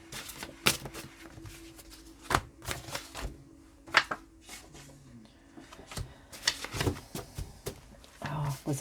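Tarot cards are mixed by hand in irregular close bursts of riffling and tapping, separated by short quiet gaps, with a voice speaking softly underneath.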